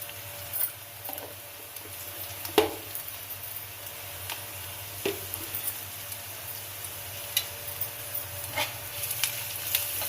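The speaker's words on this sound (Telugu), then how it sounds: "ఇలా కొంచెము వేగాలి పచ్చి వాసన అంతా పోవాలి" Carrot, beans and vegetables sizzling softly in a pan while being fried for pepper rasam, with a steady low crackle broken by occasional stirring clicks and scrapes, no voices.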